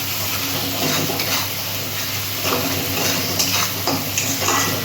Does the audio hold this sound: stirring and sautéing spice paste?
yes